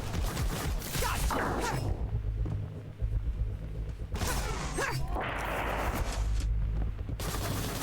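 Violet cannon attack from a witch's mech suit in the video game Jenny the Witch, a rapid burst of explosive blasts and whooshing shots with crashing impacts, loud and close, no voices.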